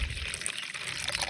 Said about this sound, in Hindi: खट्टी दही लें और उसके बाद उसमें डाल दीजिए पानी